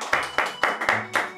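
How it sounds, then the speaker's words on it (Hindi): Audience clapping in short bursts for someone on stage, several claps in rapid succession with brief gaps, fairly close and loud, with a low hum underneath. "Can we all clap for him please?"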